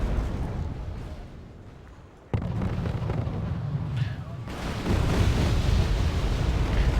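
Napalm bombs from a bombing run exploding in the Wargame AirLand Battle video game, a dense, continuous low roar of blasts that swells and thickens partway through, with a sharp onset midway.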